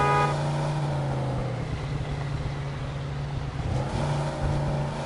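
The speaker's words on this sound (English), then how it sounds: "Keep pressing square to hit the handbrake in this circle." A car's engine revs steadily as it spins tight handbrake circles in Mafia 2, a continuous droning motor tone with slight pitch shifts and no talk.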